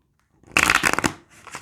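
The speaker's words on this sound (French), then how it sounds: "je mélange un petit peu comme ça pour bien répartir toutes les cartes dans le jeu" A deck of oracle cards is shuffled in one quick close riffle, a dense fluttering burst lasting about half a second followed by a few softer card taps.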